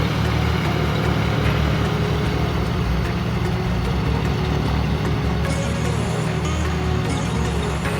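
A tractor working in a field runs with its blade loose on a slack nut, a continuous heavy, rattling engine drone that stays loud and steady, with a faint higher whine creeping in near the end.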